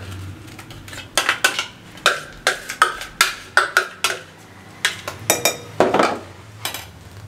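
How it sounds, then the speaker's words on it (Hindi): Rapid clinking of a utensil against a bowl as four eggs are beaten with chopped chillies and onion for a Mughlai egg paratha, coming in short bursts of quick metallic taps with brief pauses, close and fairly loud with no talking. "चार अंडे डाल के अच्छे तरीके से फेंट लें।"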